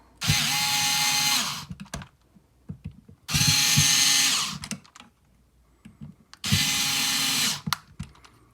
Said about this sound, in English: I actually have a tool here that I'm going to use just to speed up this process so you don't have to watch me screw it in both sides